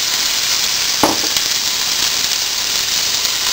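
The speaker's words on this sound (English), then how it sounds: "So let's take our red bell peppers, put them in here to the pan, some olive oil," Red bell peppers sizzle in olive oil in a pan, a steady bright hiss throughout with a brief louder crackle as they hit the hot oil near the start.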